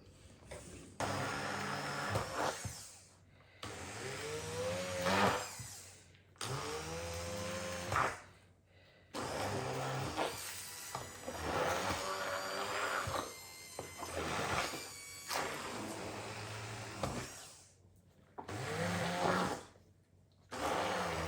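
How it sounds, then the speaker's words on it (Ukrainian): A loud, steady whir of an immersion blender running for a long stretch, with brief pauses and changes in pitch as it churns through a thick batter for a berry bake. "Перебили блендером нашу масу."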